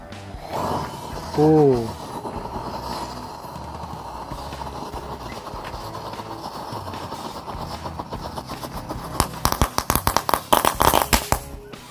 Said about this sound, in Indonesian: Yang selanjutnya ini kita nyalain mercon Happy Flower guys. Kita masukkan ke dalam kaleng.